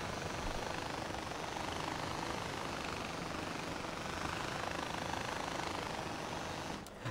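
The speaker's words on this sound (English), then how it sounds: "Oh, the helicopter." Helicopter in the video game Far Cry 4, a steady loud rotor and engine roar holding level throughout, broadband and continuous with no talk over it.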